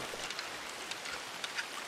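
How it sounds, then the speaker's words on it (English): Steady rain hisses across the whole stretch in a Red Dead Redemption 2 game scene, a dense even wash with occasional brighter droplet spatters and no voices. "And it's raining"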